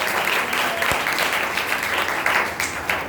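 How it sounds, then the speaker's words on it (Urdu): A church congregation applauds during a sermon, honoring members who brought their Bibles: dense, loud, sustained clapping from a large indoor crowd, continuous throughout with no speech over it. "ان کے لیے زوردار تالیاں بجائیں"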